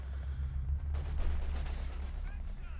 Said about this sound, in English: Firing up with the Bren guns